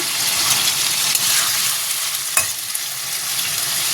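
Shrimp fry in a hot pan with a loud, dense, continuous sizzle, a steady hiss throughout with one sharp spatter or scrape near the middle.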